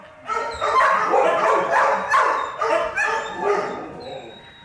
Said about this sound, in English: Once you've heard a big dog cry, you won't forget it.